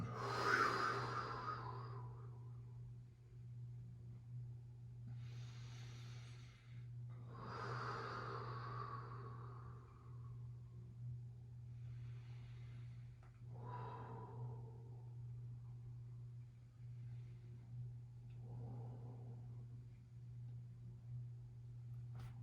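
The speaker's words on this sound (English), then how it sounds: "Deep breath in, deeper breath out." Slow, deep yoga breaths, drawn in and let out in long waves roughly every few seconds, close and soft over a steady low hum, with no talking.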